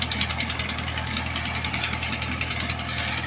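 A tractor engine idles steadily on a farm field at dusk, ready for corn planting with a seed drill; the low, even drone runs nearly unchanged throughout, with no voices.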